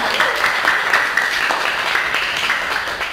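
Steady applause from an audience at a classroom teaching performance session, a dense continuous patter of clapping that holds fairly loud and even throughout.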